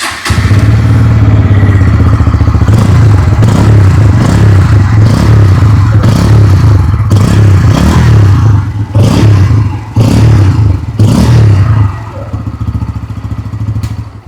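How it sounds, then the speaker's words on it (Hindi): A Bajaj Pulsar N160 motorcycle idles with a throaty exhaust rumble, punctuated by a series of quick throttle blips that rev the engine up and back down, close and loud. "अभी सुन लेते हैं N160 की एग्जॉस्ट नोट।"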